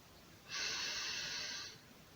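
A single steady inhalation during a leg exercise, lasting a little over a second, close and clearly audible against a quiet room with no talking.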